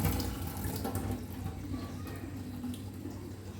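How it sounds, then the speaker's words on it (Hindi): Fresh homemade paneer being rinsed under cold running tap water, with a continuous soft splashing stream from a faucet that sounds fairly faint and close. "अब इस पनीर को हम ठंडे पानी में अच्छी तरह से एक बार धो लेंगे"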